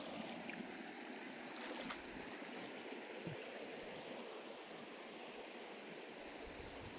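Manadlam Falls in Antipolo pours in a continuous loud broadband rush of falling water, steady and close, with no voices over it.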